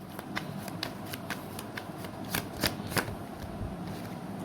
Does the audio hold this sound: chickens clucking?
no